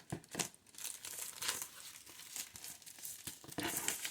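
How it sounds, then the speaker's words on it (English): Plastic wrap being peeled and pulled off a Pusheen subscription box, a close, fairly quiet run of crinkling and crackling bursts with brief tearing rustles, no talking. "I'm going to go ahead and take off"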